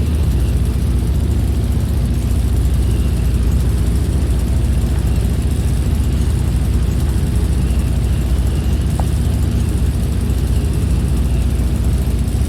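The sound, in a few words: Avro 621 Tutor biplane engine at about 1600 RPM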